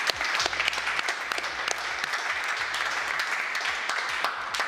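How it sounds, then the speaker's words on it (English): A round of applause at a digital marketing agency awards event, with brisk, dense clapping from a crowd holding steady at moderate volume and a few sharper claps standing out. "It's worth another round of applause"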